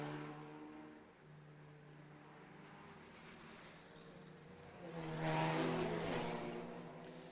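Touring cars race around the Macau street circuit, a steady far engine drone with a louder car sweeping past and revving as it nears, no voices over it.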